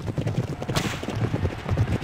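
Galloping racehorses in a Derby Owners Club arcade racing game, a dense, steady drumming of hooves close up and loud through the final stretch of the race, with no talk.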